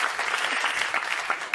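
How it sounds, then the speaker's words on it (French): Comedy show audience applauding, a dense, steady wash of clapping from many hands that holds evenly throughout without talk. "On peut l'applaudir quand même"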